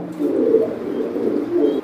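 Soft, low pigeon cooing from a male Mundi pigeon rolls on close by in a steady murmur, swelling slightly twice, with no talk.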